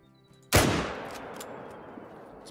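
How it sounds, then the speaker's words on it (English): A single loud hunting-rifle shot cracks out beside a small lake in a hunting video game, a sharp blast followed by a long, rolling echo that fades slowly over about two seconds. "Let's see if we can shoot him without spooking everything."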